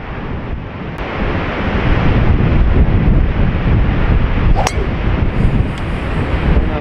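Strong wind roars steadily across a coastal golf course at Pacific Dunes, Bandon Dunes, buffeting the microphone with heavy, continuous gusting and a surf-like rush for several seconds, with no voices.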